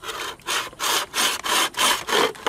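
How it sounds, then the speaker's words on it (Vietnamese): Hand saw cutting through wood outdoors, six steady rasping strokes in an even back-and-forth rhythm, close and fairly loud with no talk. "Cưa đi, cưa đi."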